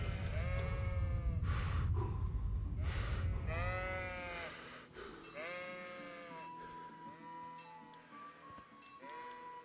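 Sheep bleating in the medieval video game Kingdom Come Deliverance, several wavering calls one after another, the first ones over a heavy low rumble that fades, then clearer bleats repeating to the end.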